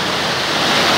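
Flash flood water rushes down a city street in Uberaba, Brazil, a loud, close, unbroken roar of churning water like heavy surf, with no speech.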